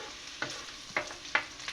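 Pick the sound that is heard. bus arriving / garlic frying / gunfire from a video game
garlic frying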